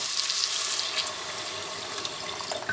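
Water pours steadily from a tap into a pot of potatoes for a stew, a continuous close splashing rush that runs through the whole moment with no talking.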